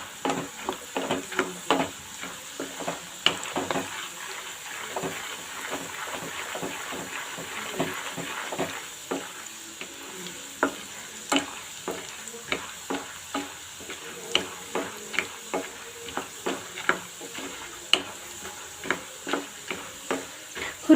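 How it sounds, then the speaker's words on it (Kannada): Split roasted chickpeas and peanuts being dry-roasted and stirred in a pan for a Kannada-style churumuri, with a steady scraping, rattling stir and a faint sizzle throughout, close and moderately loud, no voices. "ನಾವು ಇದಕ್ಕೆ ಈಗ ಹುರ್ಗಡ್ಲೆನ ಹಾಕ್ಕೊಳ್ಳೋಣ. ಇದನ್ನು ಸ್ವಲ್ಪ ಹುರ್ಕೊಳ್ಳೋಣ."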